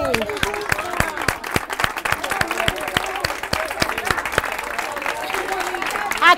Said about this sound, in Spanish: ¡Un aplauso para Juani!